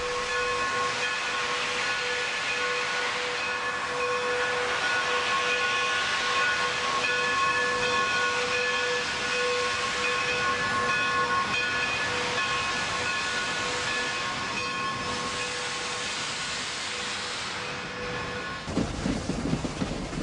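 A steam locomotive with its cylinder cocks open gives a loud, continuous hiss and steady rumble alongside San Francisco Bay. Tonal whistle-like lines run through it, and the sound cuts off near the end.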